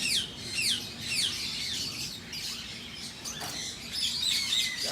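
Rescued lovebirds in a flock, giving quick, sharp, high chirps in bursts, fairly close and clear, with a few louder calls standing out over a low background hum and no talking.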